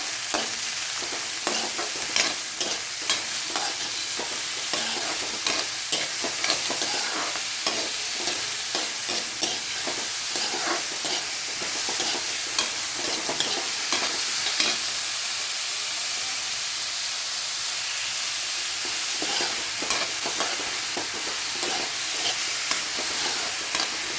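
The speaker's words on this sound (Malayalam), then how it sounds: "അരിഞ്ഞു വെച്ചേക്കുന്ന സവാള പച്ചമുളക് അങ്ങോട്ട് ഇട്ട് കൊടുക്കാം അത് നല്ലതുപോലെ ഒന്ന് വഴന്ന് വരട്ടെ" Chopped onion and green chilli sautéing in a hot pan for an egg masala thoran, a steady close sizzle and frying hiss with repeated scraping stirs throughout, no voices.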